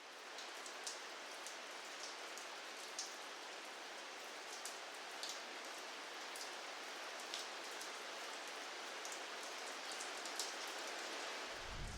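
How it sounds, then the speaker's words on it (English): Steady overnight rain patters on a surface outdoors at a park, a dense, even hiss with scattered louder drips, continuous and fairly faint, with no voices. "It was raining overnight, as you saw in the filming we did earlier on."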